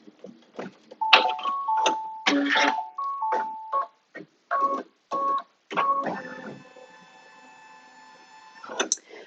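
An embroidery machine stitching a line to hold a ribbon on an in-the-hoop quilted notebook cover, giving bursts of rapid mechanical whirring and tapping broken by short pauses, ending in a longer steady hum.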